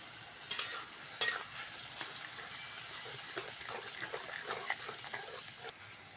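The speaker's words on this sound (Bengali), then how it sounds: "এবার মশলাটা ভালো করে কষে নেব।" Spice paste of chilli powder, green chilli, ginger and cumin paste fries in oil, making a steady sizzle broken by scraping stirs and a couple of sharp clatters near the start, with no talking.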